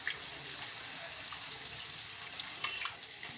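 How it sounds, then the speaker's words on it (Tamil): Tamarind is squeezed and dissolved in water by hand in a bowl, giving faint close sloshing and squelching with small splashy drips and no voices. "இப்போ இந்த புளியை நம்ம கரைச்சிக்கலாங்க."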